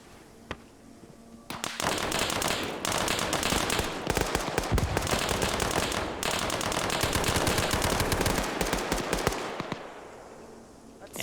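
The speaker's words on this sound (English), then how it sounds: "that was a machine gunner right there with an MG" Sustained automatic machine-gun fire in a Vietnam War combat video game, loud rapid bursts rolling on for about eight seconds with sharp cracks, starting abruptly and tapering off near the end.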